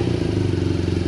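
BMW R nineT motorcycle exhaust burbling at idle, a low throbbing rumble with a steady pulsing rhythm, close and continuous.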